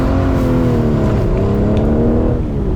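A Triumph TR6 with a new engine accelerating hard at a Curborough sprint course, a loud, sustained, rising engine roar heard from close by, with no talk.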